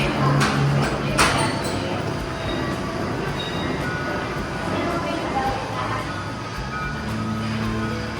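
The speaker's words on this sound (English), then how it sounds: "Port traffic." Port traffic sound effects play in a maritime museum exhibit: a dense, steady industrial rumble with vehicle and rail-like noise, a few brief tones and scattered clanks, with people speaking partway through.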